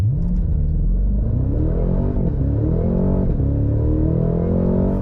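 A Cadillac CT5-V Blackwing sedan launches hard from a standstill, its engine roaring loud and close as revs climb steeply, drop briefly at gear changes, and rise again with a deep, sustained growl.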